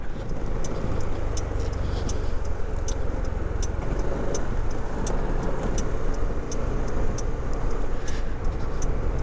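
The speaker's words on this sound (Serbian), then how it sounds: "Zvuk koji prede, koji ima snage," A KYMCO Downtown scooter engine purrs steadily at close range, a continuous low rumble with faint rhythmic ticking on top and no talking.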